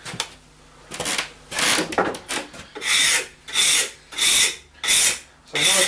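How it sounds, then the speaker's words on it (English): Repeated long rasping strokes of lacquer being rubbed off a wooden snooker cue shaft, about eight rhythmic back-and-forth passes, close and fairly loud with brief pauses between strokes. "It's a massive amount of lacquer I'm taking off"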